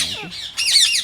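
A caged parrot at a bird breeder's gives a short harsh call and then a louder, longer squawk, close to the microphone with nothing else heard.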